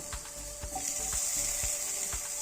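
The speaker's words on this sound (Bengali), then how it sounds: "এরপর কড়াই সর্ষে তেল দেব এবং পেঁয়াজটাকে ভেজে নেব" Onion frying in mustard oil in a wok, a steady hiss of sizzling with repeated low thumps and scraping clicks of stirring throughout.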